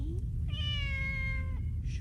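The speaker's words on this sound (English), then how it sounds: "That darn cat." A single drawn-out cat meow from the film Lily C.A.T., close and clear for about a second over a low steady rumble of background noise.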